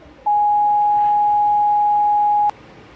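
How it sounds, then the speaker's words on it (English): A single high-pitched sustained tone played as a music-fundamentals example, holding steady and loud for about two seconds at an even level before cutting off abruptly, with near silence before and after. "So that first tone held out for about 4 beats, and it was a bit high."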